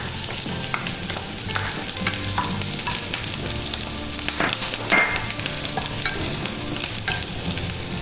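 Chopped green chilli, ginger and garlic dropped into hot oil sizzle loudly and continuously, with brisk stirring scrapes against the pan throughout.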